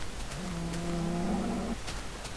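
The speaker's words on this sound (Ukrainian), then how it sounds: "Тут мутанти корови." Mutant cows in a jungle survival video game give one long, sustained moo that rises slightly in pitch. It lasts over a second and stands out loud and close against steady low game ambience, with no talk.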